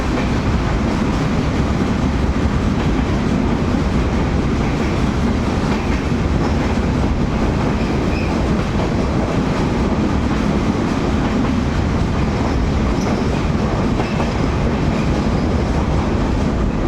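A train rumbles steadily through a long tunnel in Assam, a loud, continuous roar with a faint clickety-clack of wheels on the rails and no talk.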